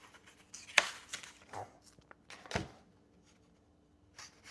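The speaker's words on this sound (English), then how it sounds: "Now that we got a sharper knife, I'm gonna start to cut as slight as I can." A sharp kitchen knife slices thinly through a cut-open potato, giving a couple of crisp chops against the board with quieter cutting and handling noise between them.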